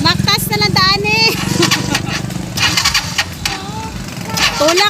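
Stalled vehicle engine cranking and trying to start, rough bursts of starter and engine noise up close, heard under people talking loudly.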